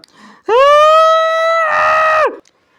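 A man gives a single loud, sustained scream lasting about two seconds, rising sharply and then cutting off abruptly. The scream is close and heard alone.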